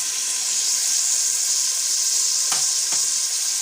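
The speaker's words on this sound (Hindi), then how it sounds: "इनको भी अच्छे से गोल्डन फ्राई करना है, ब्राउन शेड नहीं इसको देनी" Onions sizzle steadily in a pan of hot oil for Afghani mutton pulao, a bright, even hiss that stays loud throughout, broken by a couple of soft clinks from a stirring spoon near the end.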